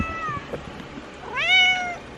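A house cat gives one clear, close meow that rises then falls near the end, after a few soft thumps and rustles.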